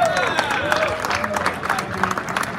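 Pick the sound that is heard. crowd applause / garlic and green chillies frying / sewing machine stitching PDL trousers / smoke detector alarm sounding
crowd applause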